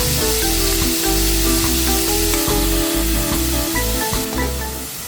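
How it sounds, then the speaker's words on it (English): Pork searing in hot oil in a pan for a Filipino caldereta, a loud continuous sizzle with crackling spatter running steadily, with a faint tonal hum underneath. "Then once it's hot, sear the meat inside, just enough to give some brown color in each side."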